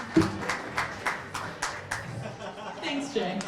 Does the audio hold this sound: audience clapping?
yes